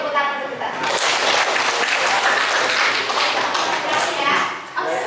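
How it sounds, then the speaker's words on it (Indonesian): A classroom of children claps hands together in a loud, continuous round of applause lasting about five seconds, with some voices mixed in before it fades. "Oke, tepuk tangan dulu kita."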